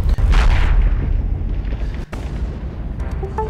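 Missile fire in the video game Hell Yeah, a heavy booming launch and blast at the start that rolls off into a rumbling tail, followed by a second thud and small blips near the end.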